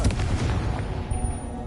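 A Confringo blasting spell in Hogwarts Legacy, a single heavy, close boom that rumbles and fades over a second or so.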